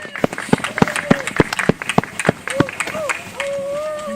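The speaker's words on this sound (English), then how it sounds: "Let's have a really big round of applause for the dance group." Outdoor audience at a Christmas on 2nd Avenue house-lighting event in Digby claps for a dance group. Sharp, separate hand claps come in an uneven rhythm from a modest crowd, and a voice speaks over them toward the end.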